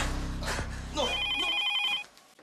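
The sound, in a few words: telephone ringing with an incoming call at a hospital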